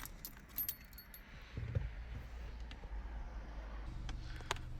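Car keys jangling softly in the ignition of a Mercedes W209 CLK, faint metallic clinks at close range over a quiet interior.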